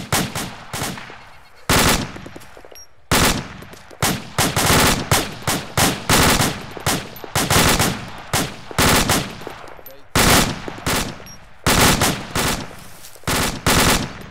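Machine gun fire in the military video game Arma 2 comes in loud, rapid bursts of repeated shots. The bursts follow one another closely, with short gaps between them.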